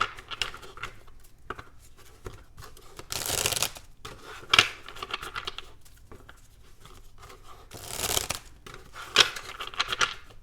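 A deck of tarot cards being shuffled by hand in several bursts, riffling and sliding with soft taps and pauses between, close up.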